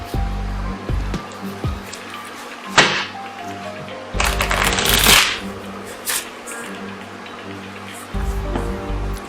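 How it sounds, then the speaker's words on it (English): A deck of playing cards is shuffled up close in a few separate bursts, crisp riffling flutters with short pauses and light handling clicks between them. "Shuffling in the deck."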